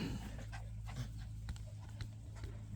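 Bichon Frise dogs pant and whimper on an outdoor walk, with quick soft rhythmic breaths and faint whines close by at a low overall level.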